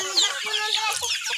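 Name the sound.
chicken clucking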